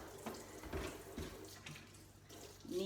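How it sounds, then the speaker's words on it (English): Warm water runs from a tap over cones of yarn being rinsed, a steady splashing hiss with uneven surges and spatters as the cones shift under the stream. "So just going to put them onto the warm running water."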